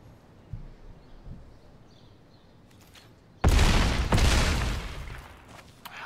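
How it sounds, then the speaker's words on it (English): An explosion effect in the digital Magic: The Gathering card game breaks a quiet stretch with a sudden loud blast, followed by a crackling rumble that slowly fades. "They are not scared of another explosion."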